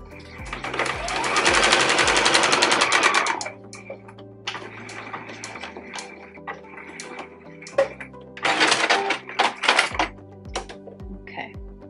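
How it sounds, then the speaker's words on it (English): A sewing machine stitches a hem on fabric, with a fast rattling run of a few seconds, then a pause and a second shorter burst, close and clear. "And then you want to stitch straight down to lock that fold in place."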